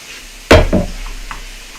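Steak searing in a hot pan, with a sharp burst of sizzle as liquid hits the metal, then a second smaller hiss that fades into a low crackle and a faint clink.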